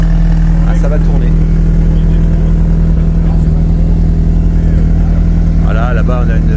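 Alpine Trophy race cars lapping the Clastres circuit, their engines droning steadily at a distance with a few passing revs, while someone talks over them throughout.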